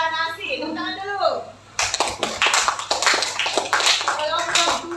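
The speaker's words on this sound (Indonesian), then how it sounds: "Tepuk tangan dulu" After a teacher's voice, a classroom of pupils bursts into hand clapping, a busy patter of sharp claps that runs to the end, with children's voices mixed in.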